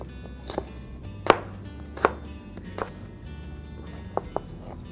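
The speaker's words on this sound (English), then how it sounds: "I think I chopped so much I need to go have my knife sharpened." Knife chopping celery and cilantro on a board for a Southwestern chicken salad, a handful of distinct sharp chops spaced irregularly over a low background hum, close and clear.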